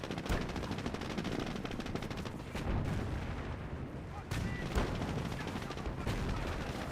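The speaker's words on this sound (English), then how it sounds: "now my Stuart tank is trying to take out his AT half-track" Gunfire from a Stuart tank at an anti-tank half-track in a WWII tank battle game: a dense, steady stream of shots and booming impacts, loud and continuous with heavier bursts near the middle and late, a voice faintly under the din.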